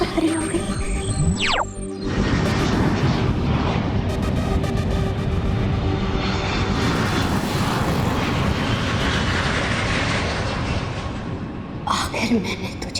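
A fixed-wing aircraft engine roars loudly and steadily for most of the stretch, under a sweeping magical whoosh effect at the start and a brief burst near the end.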